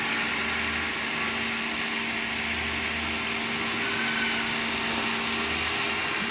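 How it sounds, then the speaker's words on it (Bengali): Soaked rice ground with milk in a kitchen blender, a steady close motor whine with a low churning hum running unbroken throughout. "সেই চালটা এখন বেটে নিচ্ছে ব্লেন্ডারে করে। সাথে মা দুধ দিয়ে চালটা বেটে নিচ্ছে।"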